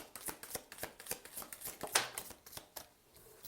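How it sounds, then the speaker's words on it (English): A deck of tarot cards is shuffled close by, quiet rapid riffling flicks and soft slaps in a steady rhythm with no voices. "do we even need to shuffle this deck anymore?"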